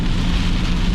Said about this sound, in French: c'est une ligne de pluie qui s'en vient